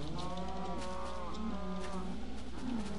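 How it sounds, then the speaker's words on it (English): Cows low in a Minecraft-style game, with several drawn-out moos overlapping and rising and falling over about three seconds against steady background ambience. "Cows!"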